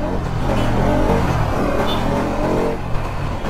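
Bajaj Pulsar NS200 motorcycle with a newly replaced clutch wire accelerating on a road, its engine note rising and revving briefly up close, loud and continuous.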